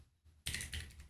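A URL typed on a phone keyboard, a short quiet burst of close, soft tapping clicks after a near-silent start.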